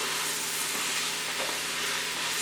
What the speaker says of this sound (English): So now we're going to go ahead and introduce our sausage into our onions and peppers and potatoes.